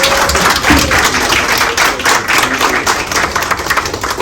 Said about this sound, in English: One more round of applause for Dave Peter!